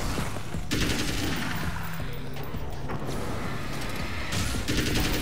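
Dense gunfire and chaotic explosive bursts during a fight against enemies in the video game Alan Wake's American Nightmare, loud and continuous with brief lulls, including shadow grenades thrown by attackers.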